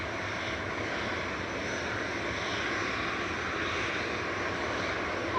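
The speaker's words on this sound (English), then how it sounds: "It's an A320 Classic lined up on 23 left now" An Airbus A320 lined up on runway 23 left at Manchester Airport gives a steady, even engine drone held at a constant moderate level throughout, with no voices.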